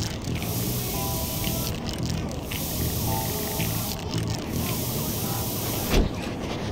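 Spray can tagging in the video game Bully Scholarship Edition, a steady hiss of spraying that runs throughout, with a few brief breaks and a soft thump near the end.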